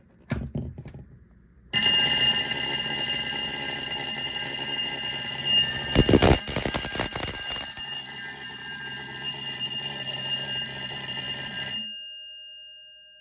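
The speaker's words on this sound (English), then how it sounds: "This particular bell is a DC bell" A loud DC electric fire alarm bell rings continuously for about ten seconds, a steady harsh metallic clatter that starts abruptly and cuts off, leaving a brief fading ring.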